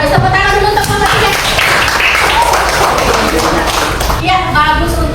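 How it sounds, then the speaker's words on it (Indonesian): Classroom applause for group 3, a dense patter of students clapping that runs through the middle while a voice speaks before and after. "Tepuk tangan dulu untuk kelompok 3."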